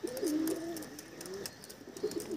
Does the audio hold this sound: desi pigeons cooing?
yes